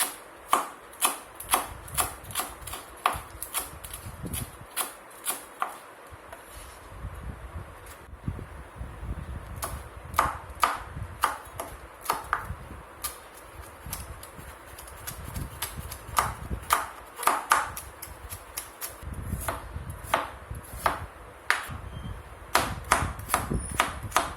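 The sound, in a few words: chopping vegetables into thin strips for spring rolls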